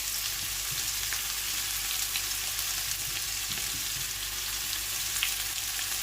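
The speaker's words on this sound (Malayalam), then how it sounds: "ഇട്ട് നല്ലോണം അങ്ങോട്ട് ഇളക്കുക." Chopped onions fry in a pan with ginger, garlic and green chilli, giving a steady, even sizzle throughout with faint stirring scrapes and no voices.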